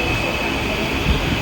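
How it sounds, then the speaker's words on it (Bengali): A passenger train runs near Bandel as a loud, steady rumble with a constant high whine overhead, heard from onboard. "ভালোই যাচ্ছে ট্রেনটা"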